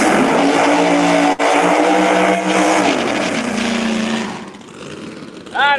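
A Pro Mod drag race car, Mike Bowman's, at a drag strip, heard as a loud roaring engine that holds steady and then fades away, with an announcer talking over it.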